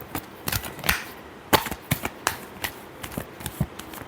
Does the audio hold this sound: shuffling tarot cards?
yes